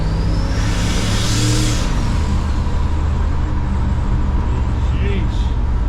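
Engine of the Gonzo vehicle revving at quarter throttle, a loud, rough, continuous roar close by that briefly swells near the start, with a voice faintly audible beneath it.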